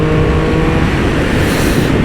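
A Triumph Speed Triple RS/RR motorcycle exhaust drones loud and close, a steady throaty roar that swells slightly as revs build, with no voices over it.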